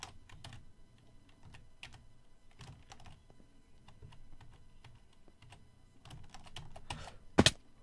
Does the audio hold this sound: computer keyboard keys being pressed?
yes